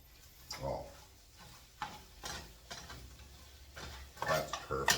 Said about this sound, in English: Give this one more quick stir here.